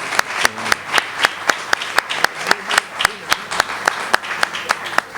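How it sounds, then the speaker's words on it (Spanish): Rhythmic group clapping at a wine-tasting talk gathering, evenly spaced sharp claps in a steady beat, fairly close and clear, with faint voices underneath. "Vamos a ampliar un poquito ese aplauso para ellos también"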